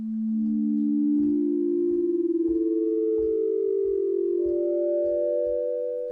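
Orchestral Tools Sinoid synth in its soft sustain patch plays smooth, pure sine-like tones that glide gently between pitches, soft and steady, with faint low thumps pulsing underneath.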